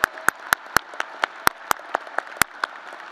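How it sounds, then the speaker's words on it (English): At a Michigan Ross graduation ceremony, award recipients get applause: sharp, scattered individual claps close by, about a dozen uneven strikes over a few seconds, with a thin wash of clapping behind them. "Give them a big round of applause"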